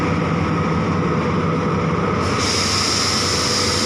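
Ordinary passenger train 202 at Chum Saeng station, a loud steady rumble of rolling rail cars with a rising hiss, heard close by without voices.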